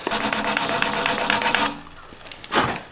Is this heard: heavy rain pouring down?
no